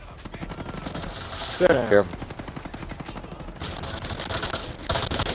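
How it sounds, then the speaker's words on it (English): Rapid automatic gunfire from a Gatling-style minigun in the video game Ghost Recon Breakpoint, a steady dense rattle running through the whole stretch under a voice speaking briefly. "That Gatling gun."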